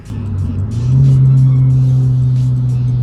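A Subaru BRZ or Toyota GR86 with an aftermarket exhaust pulls away, its engine note rising and then holding a steady low drone, heard from inside the car.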